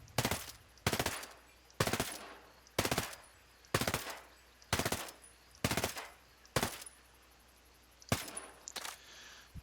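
An assault rifle in Ghost Recon Breakpoint fires in automatic bursts, about ten evenly spaced sharp volleys over several seconds, loud and close with brief quiet gaps between them.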